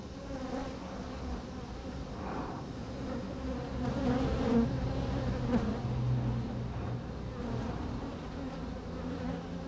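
Bees swarming around an open hive, a dense continuous buzzing drone close by with individual insects swelling louder as they pass near, no voices.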